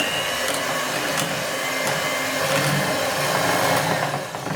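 Electric hand mixer beating butter with powdered sugar for butter cookies, a steady close-up motor whine that runs unbroken for several seconds and fades slightly at the end.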